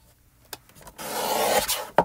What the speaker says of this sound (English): so I'm going to cut it down to 5 1/4 by 4.